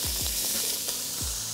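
Chicken sautés in butter in a pot, a constant bright sizzle with a few low knocks and scrapes of stirring, close and loud, with no talking over it.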